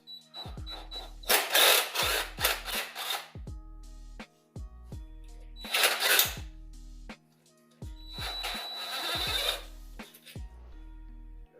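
Four 10mm bolts come out of a Cadillac CTS throttle body, close bursts of ratchet wrench clicking separated by pauses and clean metallic ticks, repeated in three long runs with no speech.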